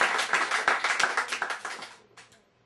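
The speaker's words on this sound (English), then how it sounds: "Would you mind giving him a round of applause?" Audience clapping at a poetry event, a dense burst of many hands that thins out and fades after about two seconds, with a few scattered claps trailing at the end.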